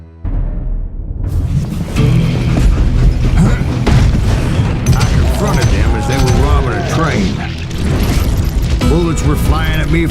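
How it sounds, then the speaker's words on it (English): Gunfire and explosions in the Western shooter video game Call of Juarez: Gunslinger: loud continuous booms and mechanical clatter, dense and sustained, with someone speaking over the action. "Bullets were flying at me from every which way."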